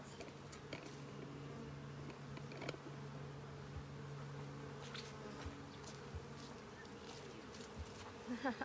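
A low, steady drone of honey bees buzzing around a hive, close by, with occasional clicks and light handling noises as frames are placed into the hive box.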